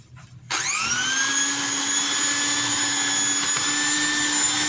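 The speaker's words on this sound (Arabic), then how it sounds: "هخلط كويس قوي سكر البودره بالسمنه" An electric mixer beating powdered sugar with ghee for ghorayeba cookie dough starts up abruptly and then runs at a steady, loud, high whine, close and continuous with no talking.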